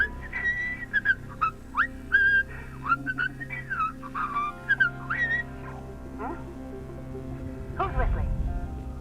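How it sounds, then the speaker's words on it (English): Melodic whistling in the space salvage game Hardspace: Shipbreaker, a series of short rising and falling tones over a low mechanical hum, with a voice speaking briefly toward the end. "Who's whistling?"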